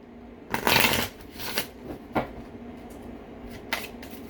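Oracle cards are shuffled close by in a few quick riffling bursts, the loudest at the start, followed by softer card slides and taps with quiet gaps between.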